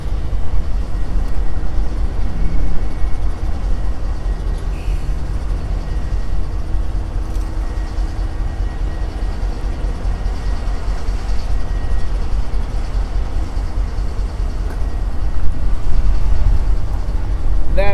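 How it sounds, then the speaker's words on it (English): Freight train with an ET44AC locomotive rumbling past a trackside cliff, a loud, continuous low roar and rattle that holds steady throughout. "That is the train that Lucas had talked about in the background."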